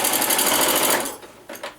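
A sewing machine back stitches through a quilted sewing machine cover, running loud and steady with dense rapid stitching, then stopping abruptly and giving two short bursts near the end.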